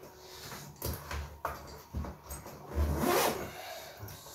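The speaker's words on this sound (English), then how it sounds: "as you can see, the zips just glide around there" Double zips on Fox Camolite carry-on luggage being pulled around the case, giving several close rasping zipper runs with short pauses between them and no talk over them.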